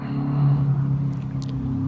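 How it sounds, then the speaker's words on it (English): A hot rod BMW drives by near a rural yard, a low steady engine rumble that holds for a couple of seconds and then eases slightly. "That car y'all hear, that's my neighbor in a hot rod BMW."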